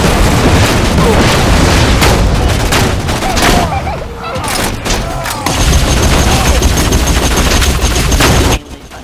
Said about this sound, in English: Are you shooting me or is somebody else shooting me?